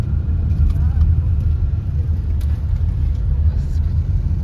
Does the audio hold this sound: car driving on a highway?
yes